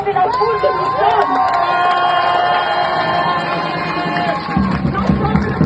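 A large crowd of protesters at a street demonstration in Toulouse makes a steady roar of voices and shouting throughout, with a louder surge of cheering near the end.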